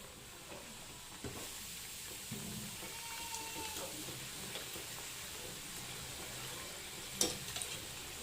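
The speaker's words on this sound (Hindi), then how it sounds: "देख के डालीजिए समोसों को तेल उछलता।" Minced mutton samosas, Hyderabadi style, deep frying in hot oil, giving a faint, steady bubbling sizzle throughout with a brief louder splash near the end, and no talk.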